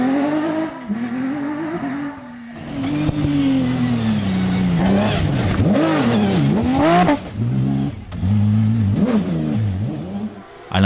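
A rally race car at the Rallye des Cimes, a Rivet-built machine, revving hard with rising and falling engine notes through gear changes, loud and close, with brief dips between bursts of acceleration.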